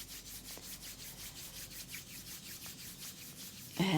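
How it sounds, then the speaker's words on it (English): Two palms rubbing together in a quiet yoga session, a soft rhythmic swishing of skin friction repeating steadily about three to four times per second, close and gentle, with a brief louder rustle at the end. "Hear the sounds of the hands rubbing, the pressure, friction, all sensations."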